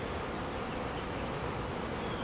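Honeybees buzz at a beehive in a dense, steady swarm drone, faint but continuous with no voices.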